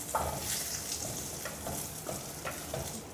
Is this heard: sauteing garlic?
yes